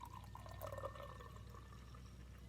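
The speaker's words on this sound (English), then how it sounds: "In our other cup, we are going to put some warm water," Warm water pours into a cup, a soft, quiet trickle with light splashing that rises briefly and then fades to a faint steady flow.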